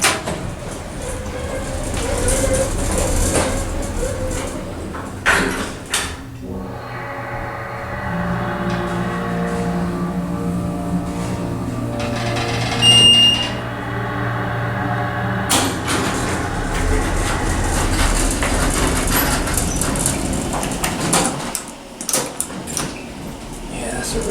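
A United States hydraulic elevator at a Holiday Inn in Auburn, California runs its motor with a sustained, steady hum, bracketed by louder rumbling and door-like clatter at the start and end.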